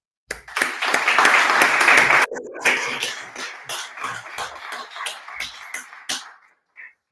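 Applause at the launch of the Mexico–European Union Chamber of Commerce, a dense burst of clapping that breaks off, then resumes as thinning scattered claps tapering to a few final ones.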